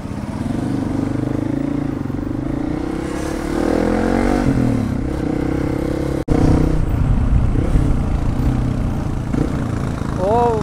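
A motorcycle engine runs close by, a loud continuous throbbing drone that rises and falls with revving, breaks off for an instant, then resumes, while someone talks over it.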